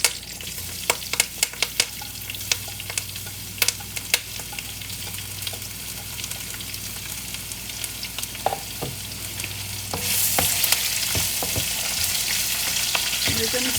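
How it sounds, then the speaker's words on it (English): Onions stir fry in a pan for a village-style salmon fish curry, a steady close sizzle broken by frequent scraping taps of a utensil, growing louder and hissier near the end. "And then we're going to add in our onions."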